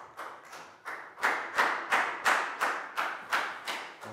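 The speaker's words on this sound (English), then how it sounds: "High five and a big round of applause for Pat." Classroom applause for a student as a round of rhythmic claps, about a dozen evenly spaced beats building in loudness, close and alone without talking.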